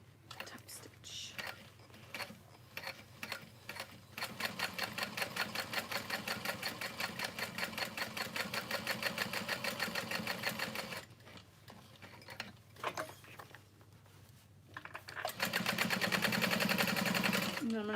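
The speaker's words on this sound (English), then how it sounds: "And then I'm going to sew across the top." Sewing machine stitching across the top of fabric, a fast rhythmic mechanical whirring and clatter in several runs, stopping and restarting, fairly quiet and close with a soft voice now and then.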